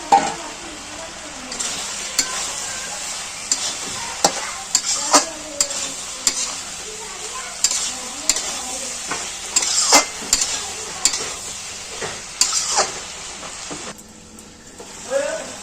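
Salted, turmeric-coated prawns frying with vegetables in a pan for a spinach chorchori, a continuous close sizzle broken by repeated utensil scrapes and clinks against the pan throughout.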